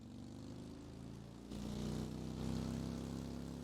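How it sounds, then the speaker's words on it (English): Motorcycle engine in the video game Ride to Hell: Retribution, a steady low droning hum that swells louder partway through and holds, quiet overall with no talk. "That's the quietest motorcycle engine I've ever heard."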